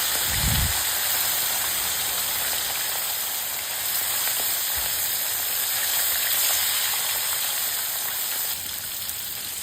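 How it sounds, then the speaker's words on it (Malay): Fish sizzles in hot oil with a steady, dense crackling hiss that continues throughout, close up and fairly loud, with no voices. "sambung goreng basi ikan tadi buka api besar ya"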